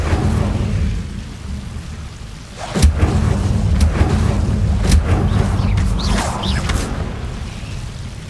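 An Incendio fire spell cast in Hogwarts Legacy erupts as a sudden booming whoosh, followed by crackling flame bursts and sharp magical flashes over a steady low rumble.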